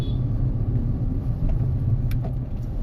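Steady low rumble of road traffic heard from inside a moving vehicle on a Badlapur road slowed by metro construction work, with a continuous engine drone and occasional faint higher whooshes of passing cars, no talking.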